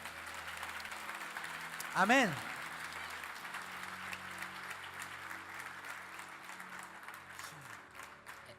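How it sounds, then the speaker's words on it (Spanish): A church congregation claps in a steady, moderate round of applause after a spoken amen, with a voice speaking briefly over the crowd. "Denle un fuerte aplauso al Señor"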